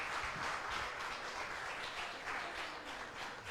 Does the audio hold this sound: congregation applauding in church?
yes